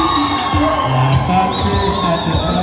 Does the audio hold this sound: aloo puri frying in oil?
no